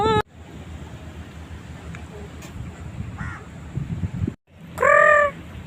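Crows caw outdoors along a waterfront walkway, a few harsh calls near the start and a loud nearby caw toward the end, over wind and distant crowd murmur.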